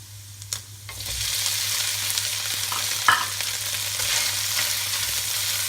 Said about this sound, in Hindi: अब इसके अंदर चिकन डालेंगे,